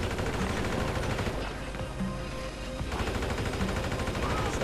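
Rapid bursts of automatic gunfire from a firefight in the GTA 5 Online chemical extraction mission, loud and dense throughout, easing briefly in the middle before resuming.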